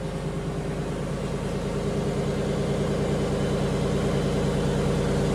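A Lincoln Town Car engine with a light exhaust leak on the driver's side idles smoothly and steadily, a loud close rumble with an even low pulse, no talking.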